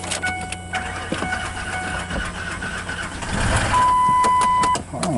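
A Ford Explorer with a cracked head starts up, first cranking with a whirring starter, then catching into a louder, rougher engine run lasting about a second and a half before cutting off.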